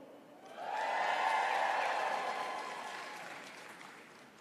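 Commencement audience at the University of Colorado Denver cheering and applauding, a swelling wave of claps and whoops that rises quickly, peaks, then slowly fades, heard from a distance in a large venue.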